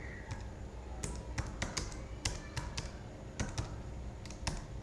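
Someone types on a computer keyboard while coding, with irregular bursts of crisp, close key clicks and short pauses between strokes.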